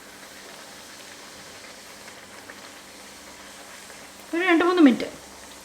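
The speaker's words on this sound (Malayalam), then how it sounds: "എണ്ണ ചൂടായി വന്ന ശേഷം നമുക്ക് ഓരോന്നായിട്ട് ഇട്ട് കൊടുക്കാം" Gujarati farsi puris deep frying in hot oil give a soft, steady sizzling hiss that runs evenly throughout, with a short spoken phrase rising over it near the end.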